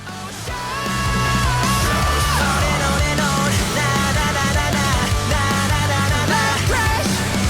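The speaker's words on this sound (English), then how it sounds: "I heard those screams." Loud, sustained screaming and yelling voices ring out over a pounding band in a song, raw and continuous throughout.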